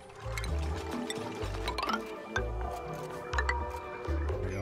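Water gushing and squishing as it fills an area in the video game Badlands, with wet bubbling bursts recurring in uneven pulses over a background bed of game sound.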